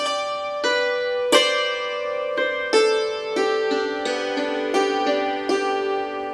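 Hammered dulcimer struck repeatedly in a full chord from Silent Night, bright ringing notes landing every half second or so and sustaining over one another, played alone with no talk.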